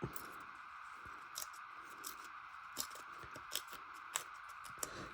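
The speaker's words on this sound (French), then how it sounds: "Je vais le faire au ciseau, ça ira plus vite." Scissors snip through paper for a collage with a series of soft, evenly spaced cuts, faint and close against a quiet room.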